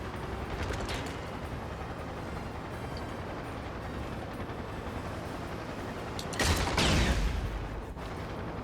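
In the James Bond 007: Blood Stone video game, muffled gunfire rattles over a constant noisy rumble, then a loud explosion bursts out near the end before fading.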